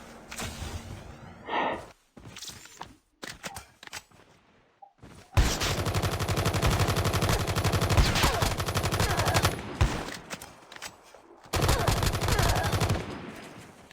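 Gunfire in a Call of Duty Mobile battle royale match comes in bursts, with sharp shotgun and automatic fire crackling between short gaps and a long sustained stretch of loud shooting in the middle.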